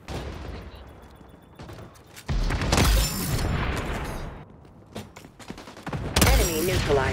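Sniper rifle shots in the XDefiant shooter game land as two sharp, loud blasts a few seconds apart, each trailing into ringing echo over a busy game backdrop.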